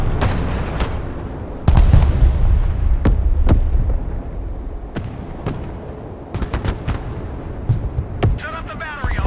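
Broken Arrow artillery battery firing in a modern military strategy game, a series of loud booming shots spaced irregularly, with distant rumbling and crackling between blasts.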